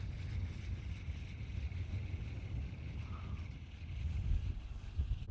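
Outboard motor on a Jones Brothers Bateau 20 skiff, a continuous low rumble with wind and water noise, steady throughout, no talking.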